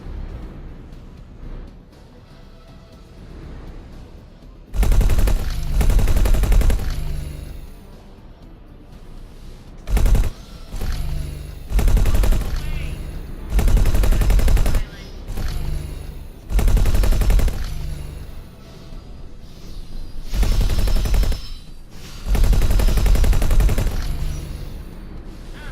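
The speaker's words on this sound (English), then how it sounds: "I see a single fighter shooting it up." Spaceship weapons in X4: Foundations fire in repeated loud bursts at enemy turrets, several heavy rapid volleys separated by short quieter gaps over a steady background hum.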